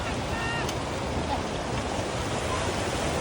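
Floodwater from the Saraswati river surges past in Khalipur, a dense, continuous broadband roar of rushing water with wind buffeting the microphone.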